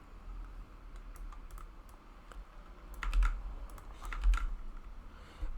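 Keystrokes on a computer keyboard while entering a command in the command prompt, quiet and scattered, with a couple of brief denser bursts of typing.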